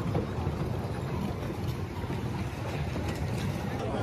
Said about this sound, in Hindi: कश्ती की राइड लेने अकेले अकेले इंजॉय कर रहे हैं